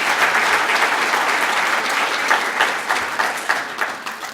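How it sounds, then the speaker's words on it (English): Warm applause fills the room at an awards dinner for student scholarships, a steady wash of clapping from a seated audience that thins slightly toward the end. "Another round of applause for them."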